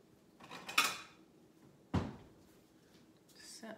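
Someone in a home kitchen fetches a plate from a cupboard, giving a sharp ceramic clatter, then a heavier knock as a door or the plate lands, then a softer scrape, all close by in a quiet room.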